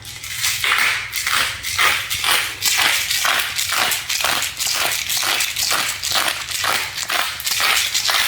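A pepper mill grinds black pepper in a steady run of rhythmic crunching twists, repeating evenly and close up with no talk over it.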